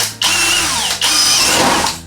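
A power drill bores a hole in a ceiling for light wiring during a DIY home build, two loud whining bursts with a brief pause between them, close and alone.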